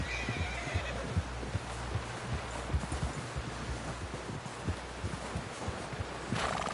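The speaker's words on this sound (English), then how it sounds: "Someone help John down off this horse." A horse in Red Dead Redemption 2 neighs and whinnies over steady clip-clopping hooves and rustling background noise, fairly close and continuous.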